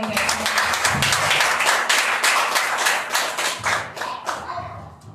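A church congregation claps hands in praise during a Sunday communion service, with brisk rhythmic clapping that thins out toward the end and voices beneath.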